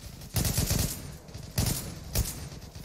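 Gunfire in the online shooter Zula: three loud bursts of shots, a long volley then two shorter ones, each cracking sharply over steady game background noise.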